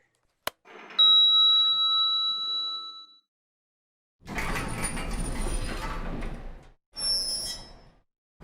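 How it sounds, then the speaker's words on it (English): A sharp click, then a clear elevator bell ding ringing out and decaying, followed after a pause by the rumbling slide of elevator doors and a shorter mechanical whoosh, heard close with no talk. "Elevators are right here."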